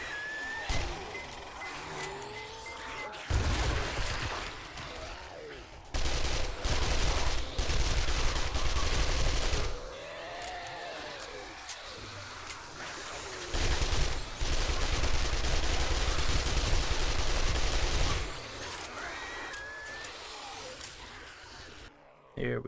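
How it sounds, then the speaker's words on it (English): Gunfire in the survival video game 7 Days To Die comes in several loud sustained bursts of rapid shots separated by quieter stretches with other game noise, and no talking. "Hold still, let me shoot you in the chest."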